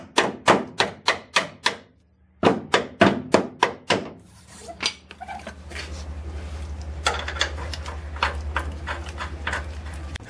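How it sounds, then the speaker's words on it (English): A small 3/8 drive ratchet taking up slack on a bolt during a Ford XC Fairmont 351 restoration: a run of sharp, evenly spaced metallic clicks, a pause, another quick series, then a faster softer ratcheting under a steady low hum. "I'm just using a little baby 3/8 drive ratchet just to take the slack out of the bolt"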